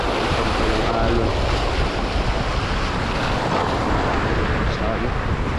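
Ocean waves and surf while fishing for grouper near a rocky shore, a steady loud roar of churning water with heavy wind noise on the microphone and no pause throughout.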